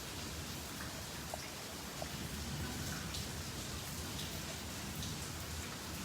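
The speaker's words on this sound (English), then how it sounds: "just before any rain like this starts, just shortly before it rains" Steady rain falling in Vrindavan, India, a dense even hiss of drops on surfaces with no break and no voices.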